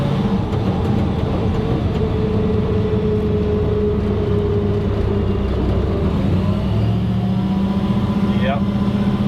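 A truck engine drones steadily while driving, its tone shifting slightly as the throttle changes, with a voice talking over the loud, continuous motor noise.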